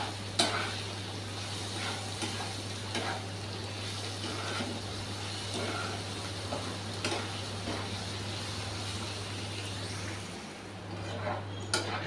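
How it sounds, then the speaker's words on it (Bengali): Spices with salt and turmeric fry in a pan, giving a soft continuous sizzle with intermittent spatula scrapes and taps against the pan over a low steady electrical hum. "দিয়ে একটু ভাজা ভাজা করে নেব।"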